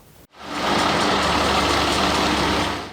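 A large truck engine rumbles loudly and steadily close by after a short break at the start.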